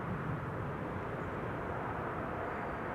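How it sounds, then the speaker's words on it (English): An Iberia Airbus A380 arriving from Madrid on final approach to runway 36R at Amsterdam Schiphol gives a steady, moderately loud jet roar that holds without break. "Iberia A380 arriving from Madrid."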